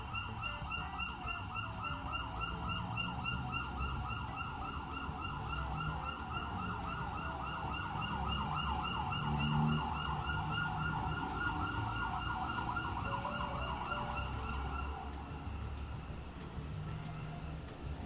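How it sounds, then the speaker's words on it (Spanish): An ambulance siren wails outside a building, its repeating rising-and-falling tone sustained for the whole stretch against low street traffic, with no one speaking. "Esperemos a ver si la ambulancia se nos va."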